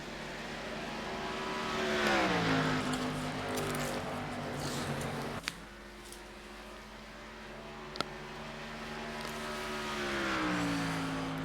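Stock cars in a sim racing game at Pocono Speedway under caution behind the pace car, their engines a steady droning hum that rises and falls in pitch, with a couple of sharp knocks.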